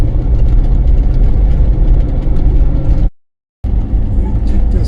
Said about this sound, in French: Quel plaisir de faire de la moto sur des routes comme ça.